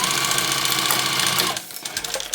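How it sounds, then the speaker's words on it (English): A sewing machine stitches vinyl for a bag, running in a fast, loud mechanical whir close by, then briefly slowing and stopping before starting up again. "I just mean the sewing machine foot sticks to that vinyl a little more than it does to the solid"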